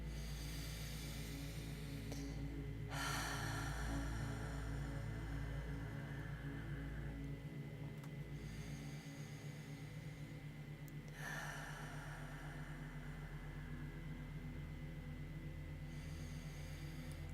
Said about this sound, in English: Purposeful inhales, purposely audible exhales.